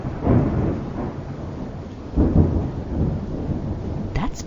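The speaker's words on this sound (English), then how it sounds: "on stormy days, we see the lightning first and then hear the thunder." A low rolling rumble of thunder, swelling twice and fading, with a faint hiss of rain underneath.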